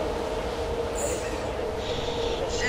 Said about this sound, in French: le mec en fait il saute du métro en marche, s'il te plaît. Il saute du métro de l'espace.